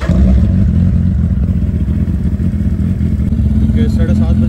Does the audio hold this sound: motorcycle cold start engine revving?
yes